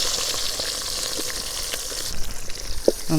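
Green chilies and onion drop into hot cooking oil, giving a continuous loud sizzle and crackle with a few stirring clatters near the end.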